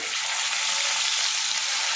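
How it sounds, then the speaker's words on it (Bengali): Onion paste fries in hot oil with cumin seeds and bay leaf, giving a steady, close, unbroken sizzling hiss. "পেঁয়াজটা দিয়েছি ভাজা ভাজা করে নেব"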